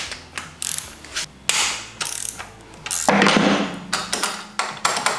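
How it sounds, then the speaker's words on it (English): A ratchet on a long extension cracks loose 14 mm bolts on a CRF300L motorcycle, clicking in quick repeated bursts with short pauses and a few metallic clanks, close and clear with no talking. "So I can just crack them loose to start."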